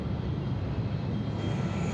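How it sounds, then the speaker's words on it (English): A Delta Airlines Airbus A321 approaches to land at Atlanta Hartsfield-Jackson airport, a steady low engine roar and rumble holding at an even level throughout, distant and hazy, with no talking. "Behind him is Delta Airlines flight 1842, coming in from Kansas City."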